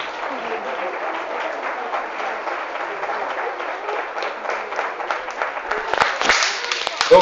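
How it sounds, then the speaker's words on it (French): Steady applause from a crowd at a medical training demonstration at Nausicaa aquarium in Boulogne-sur-Mer, dense clapping throughout and swelling louder near the end. "on pourra l'encourager avec des applaudissements"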